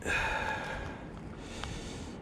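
A single close snort-like sniff, a sharp breath drawn in through the nose, fairly loud, then quieter breathing with no talking.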